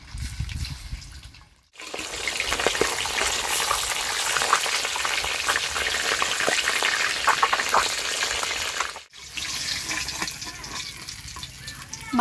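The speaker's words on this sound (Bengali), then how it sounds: "মাছের মাথাটা খুব ভালো করে লাল করে ভেজে নিয়েছি" A fish head, rubbed with salt and turmeric, fries in hot oil with a loud, dense crackling sizzle that cuts out briefly twice, then resumes more quietly.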